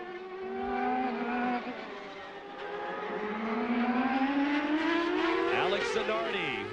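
Reynard Ford Indycar race cars on Firestone tires roar loudly at speed, engine pitch climbing steadily as they accelerate, with a bright whine and a passing sweep near the end, while a commentator talks over them.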